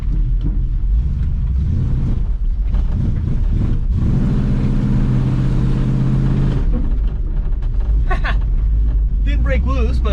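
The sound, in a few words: abandoned Ford Mustang engine revving, trying to break loose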